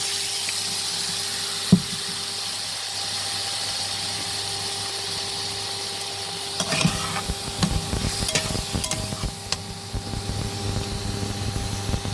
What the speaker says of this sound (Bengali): কষছি আলুটা হালকা মশলা দিয়ে।